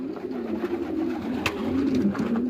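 A sick pigeon coos close by in a low, steady, throaty murmur that rolls on continuously.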